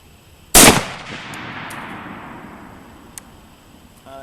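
A single loud rifle shot fired with 200-grain bullets from a G43 or SVT-40 sniper rifle, a sharp crack followed by a long decaying echo, with a faint later tap.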